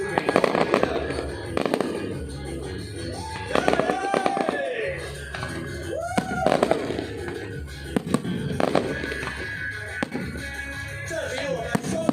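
A high-altitude fireworks display crackles and booms continuously, with repeated bursts and whistling rises over a dense crowd-like background, and voices murmuring throughout.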